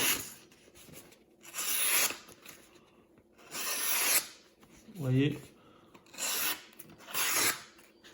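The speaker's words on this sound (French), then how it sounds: "un petit test de coupe papier." Several rasping strokes of a Sanrenmu 9015 knife blade slicing through paper, each lasting about a second, with a brief spoken remark between them.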